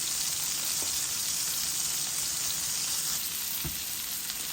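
Fish frying in a pan, a steady, close, continuous sizzle and crackle with a few faint pops, alone without talking.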